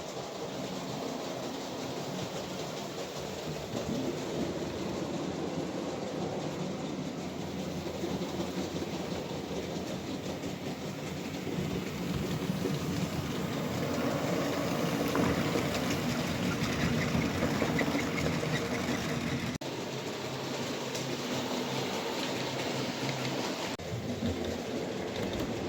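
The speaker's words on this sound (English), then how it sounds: "we'll send this round the track now and we'll see how it looks going round" A model railway train runs round a miniature layout, giving a steady, continuous rolling rumble with faint rail clatter that holds level throughout and swells slightly midway.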